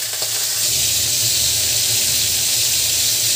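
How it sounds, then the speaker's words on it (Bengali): Hilsa fish pieces frying in hot oil with a little turmeric, a loud steady sizzling hiss with crackling and bubbling that continues evenly throughout. "মাছটি আগে ভেজে নেব।"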